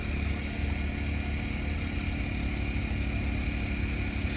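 Farmall 706 tractor fitted with pulling weights runs steadily at a farm tractor show, a continuous low mechanical rumble with clattering texture, fairly close and unchanging throughout, with no voices.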